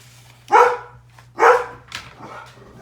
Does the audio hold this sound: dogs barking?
yes